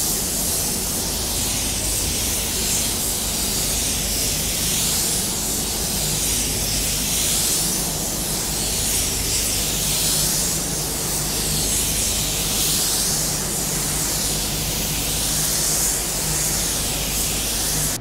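A spray gun lays a paint coat onto a car, giving a continuous loud hiss that swells and eases in slow rhythmic passes as the gun sweeps back and forth.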